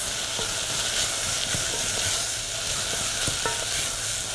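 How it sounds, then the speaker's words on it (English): Food sizzles steadily in a hot pan, a constant crackling hiss with occasional soft clinks of stirring. "So you can hear that sizzling."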